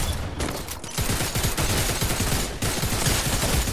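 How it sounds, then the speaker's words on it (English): Dense, loud gunfire rings out during a Fortnite duo match, with repeated sharp shots layered over one another in a near-continuous barrage. "How many shotgun rounds does it take to kill somebody?"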